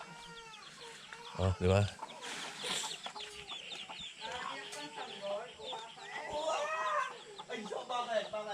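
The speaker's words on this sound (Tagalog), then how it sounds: "Ito yung isang inahin niya." Hens cluck and chatter steadily nearby with chicks peeping, while a person speaks briefly over the birds, in Batangas.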